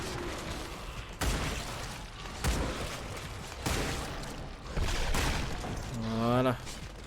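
A pump-action shotgun fires in the video game Redeemer, with several loud blasts spaced about a second apart amid game noise, and a voice is heard near the end.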